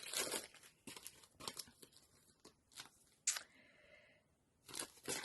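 Packaging crinkles and tears in irregular bursts, close and fairly quiet, with brief pauses between the rustling.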